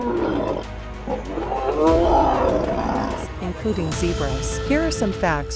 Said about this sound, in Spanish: La manada de leones ataca constantemente a la madre cebra.